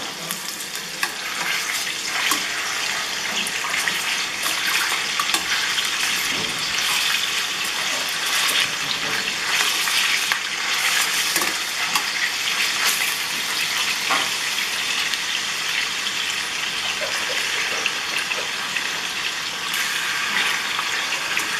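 Chicken pieces frying in oil while being prepared for a creamy baked chicken dish, giving a steady, close crackling sizzle with small pops and occasional stirring scrapes throughout, without speech.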